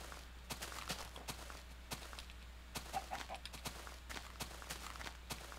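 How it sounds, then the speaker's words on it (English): Chickens cluck among footsteps in the video game Minecraft, a few short, faint clucks scattered over the steady patter of walking with no talk. "I heard a chicken, but I don't see a chicken."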